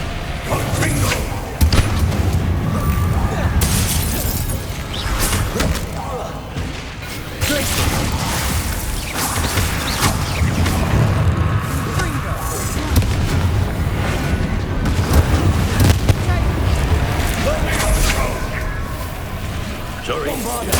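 Repeated booming blasts from the Confringo fire spell in the Hogwarts Legacy video game, a dense run of loud explosions and impacts with game music and voices mixed throughout, continuous and close.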